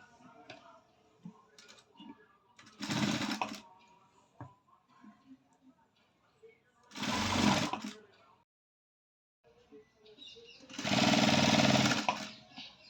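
A sewing machine stitching a blouse hem runs in three short bursts, each a few seconds long, separated by quieter pauses with handling clicks and faint background sounds.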